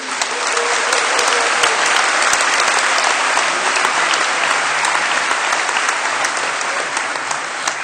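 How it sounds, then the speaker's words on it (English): Loud, sustained audience applause at the 2013 Ramon Magsaysay Awards presentation ceremony, a dense even roar of clapping that holds steady throughout. "You hear it from the applause of my people."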